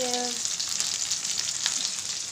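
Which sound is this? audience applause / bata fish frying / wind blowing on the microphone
bata fish frying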